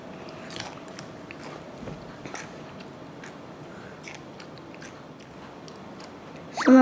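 Raw whole cucumber being bitten and chewed, with close, crisp crunching and soft mouth noises repeating at a moderate pace, plus a louder burst near the end.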